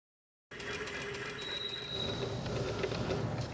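A sewing machine stitches fabric with a rapid, steady mechanical whir that starts abruptly after a short silence and runs continuously, close and alone.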